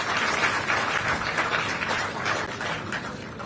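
Applause from the audience at a state-level award ceremony for UPSC and IIT-JEE achievers, a sustained, dense crowd clapping at even loudness throughout.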